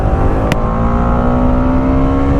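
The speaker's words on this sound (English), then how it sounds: "Yep, you're getting that rev limiter." A Bajaj Dominar 400 BS6 motorcycle engine held high against its rev limiter, a steady loud drone with a strong tone and one brief sharp click partway through, no talking.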